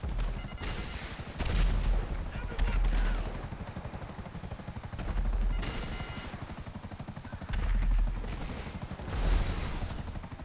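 Helicopter in GTA V online mission, its rotor chop droning steadily throughout, with repeated bursts of gunfire and explosions rising above it at intervals.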